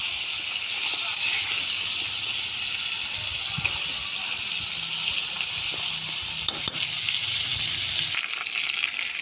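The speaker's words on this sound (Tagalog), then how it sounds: "Halu-haluin lang natin." Chicken feet adobo sizzles steadily in a hot pan as it is stirred, a constant bright frying hiss with occasional soft scrapes and a voice speaking faintly underneath.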